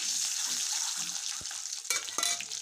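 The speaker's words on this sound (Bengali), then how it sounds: "1 চিমটা হলুদ দিয়েছি পরিমাণ মতন, দিয়ে ডিমগুলো এখন ভালো করে কড়া করে একদম ভেজে নেব।" Eggs with a pinch of turmeric fry in mustard oil in a wok, giving a steady close sizzle with brief stirring scrapes and a couple of louder crackling bursts.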